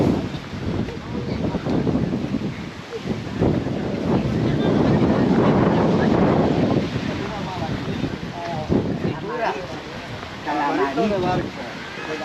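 Breezy wind buffets the microphone on a beach at Palmanova, Mallorca, a steady broadband rush that swells louder in the middle, with faint water or wave wash mixed in and brief voices or other sounds near the end.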